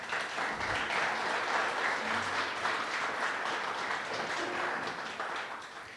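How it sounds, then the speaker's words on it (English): Sustained applause from a sizeable audience at a glass art exhibit, a steady dense wash of clapping that holds evenly for several seconds. "One more round of applause."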